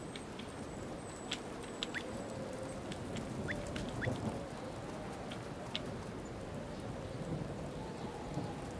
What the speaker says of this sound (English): We're gonna summon the storm one more time.